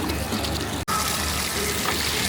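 Clean water gushes steadily through hoses while rinsing the tanks at a winery, with a continuous rushing flow that cuts out for an instant and then resumes just as strongly.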